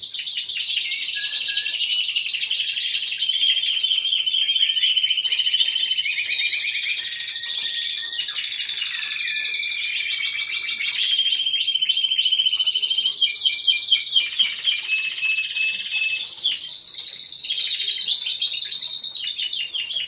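Several birds sing loudly and close, overlapping bright chirps and trills continuing throughout, with rapid repeated notes toward the end.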